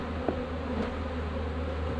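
Bees buzz steadily around an open hive while frames are worked during pollen substitute feeding, a continuous close insect drone with a faint knock partway through and no speech.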